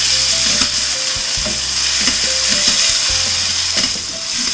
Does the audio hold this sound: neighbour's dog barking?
no